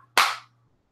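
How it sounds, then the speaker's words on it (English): A single sharp hand clap rings out close and loud, then fades quickly into near silence with a faint low hum underneath. "This is my clap"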